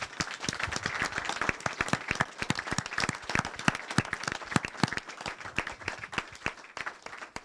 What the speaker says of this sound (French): On peut acclamer la parole du Seigneur, frère, vraiment.